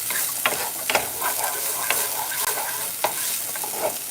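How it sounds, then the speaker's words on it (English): Vegetables for a quick spaghetti sauce are stirred in a hot pot. A steady sizzle of frying runs underneath, and a spoon scrapes and clinks against the pot in a loose, repeating rhythm, with no one talking. "So I'm going to be able to give this a little stir"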